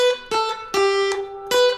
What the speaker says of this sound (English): And if I look at just the 1st string, it's like 3 blind mice.